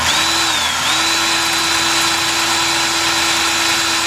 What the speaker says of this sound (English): We're gonna drill that through all the way through it gets to the other end.